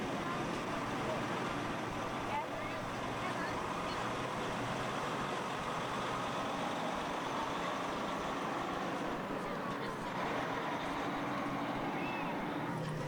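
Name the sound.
tractor engine during a tractor pull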